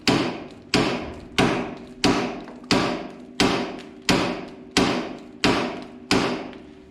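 A hammer taps a rusty tie rod on a 1970 Minneapolis Moline U302 propane tractor, ten evenly spaced metallic strikes about two-thirds of a second apart, each ringing briefly before the next, close and fairly loud.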